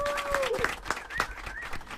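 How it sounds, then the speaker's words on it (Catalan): A crowd claps for Pepiu de Castellar during a radio broadcast, brisk applause running throughout alongside a sustained tonal sound with a gliding pitch. "I això és aplaudiments per a Pepiu de Castellar."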